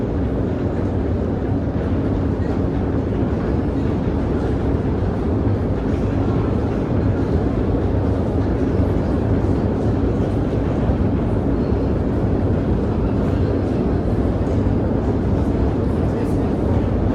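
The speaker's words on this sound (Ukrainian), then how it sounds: "Ось, прийшов потяг, бачите, люди виходять наверх." A metro train arrives at Arsenalna station in Kyiv, the deepest metro station in the world, as a steady loud rumble of wheels and motors that fills the underground space throughout.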